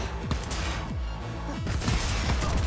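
A heavy cannon-style weapon fires in the Cyberpunk video game, with a rapid string of sharp, booming shots and crashing impacts in a dense, loud burst, without speech.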